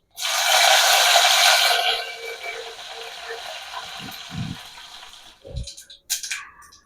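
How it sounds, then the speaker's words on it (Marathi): Cumin, mustard seeds and curry leaves crackle and sputter in hot ghee for a Maharashtrian buttermilk kadhi tempering, starting as a loud dense sizzle that settles into softer frying with scattered pops. "आता मोहरी जिरे छान कडकडले आहे."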